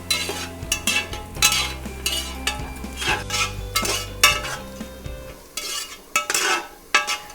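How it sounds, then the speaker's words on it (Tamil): Onions frying toward golden brown for mutton biryani, a continuous sizzle with repeated loud metallic scrapes and clanks of a ladle stirring in the pot, close and busy, with no talking. "ஆனியன் கோல்டன் ப்ரௌன் ஆகிறதுக்கு கொஞ்சம் டைம் எடுக்குங்க."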